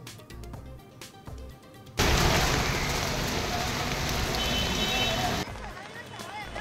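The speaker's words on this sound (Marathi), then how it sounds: "पहिल्याच पावसात मुंबईची तुंबई, सखल भागात साचलं पाणी।" Heavy monsoon rain pours down in Mumbai during a red alert, a loud steady downpour that starts abruptly after a stretch of other sound and hisses on for several seconds before cutting off.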